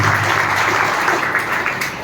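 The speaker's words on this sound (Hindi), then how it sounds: "मैं चाहूंगा उनके प्रयास के लिए जोरदार तालियां हम सभी की ओर से होना चाहिए" A crowd at a Granthotsav book-festival inauguration claps loudly and continuously, a thick, even roar of hands that holds steady throughout with no speech over it.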